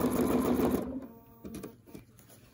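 A home sewing machine quilts a curved leafy template along a ruler, with a fast mechanical stitching whir that cuts off after under a second, then light clicks and handling sounds.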